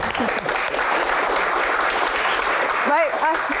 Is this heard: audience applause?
yes